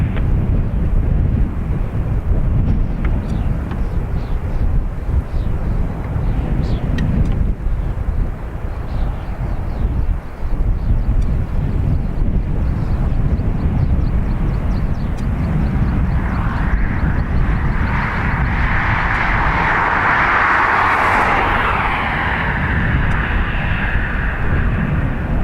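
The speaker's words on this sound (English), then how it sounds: "Ryanair off to Carcassonne." A Ryanair airliner departs Dublin Airport on runway 28 right in wind, its jet engine roar a steady loud rumble throughout, building to a bright, close whine and rush near the end as it climbs away.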